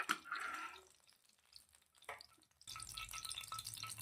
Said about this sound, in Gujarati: ઘી ગરમ થઈ ગયું છે